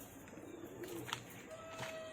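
Domestic pigeons, highflyer birds kept by a pigeon fancier in Nagpur, give a soft, low coo amid faint ambient noise with a brief chirp, fairly distant and quiet.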